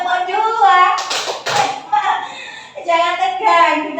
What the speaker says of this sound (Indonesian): Tepuk dua.